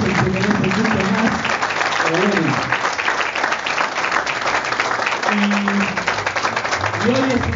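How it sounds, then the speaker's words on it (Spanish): Strong, sustained applause and cheering from a crowd at a political local's opening in Pablo Nogués, honoring Malvinas veterans, with voices and shouts rising over the steady clapping throughout. "Les pido un fuerte aplauso para todos los compañeros acá de Malvinas"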